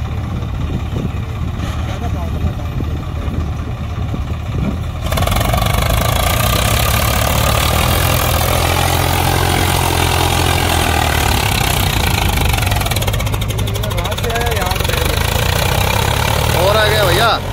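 A Swaraj 744 XT tractor and a Sonalika 75 tractor labor under load with a JCB pushing behind, heavy low engine rumble growing louder midway and running continuously, with people talking over it.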